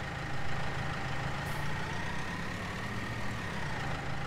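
A Ford 3600 tractor engine in Farming Simulator 19 idles steadily with a constant low droning hum and faint whine, holding level throughout with no talk.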